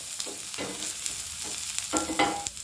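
Garlic and onion half-fried in a pan before drumstick leaves go in, a low steady sizzle broken by several scraping stirs of a spatula, close and fairly quiet with no talking.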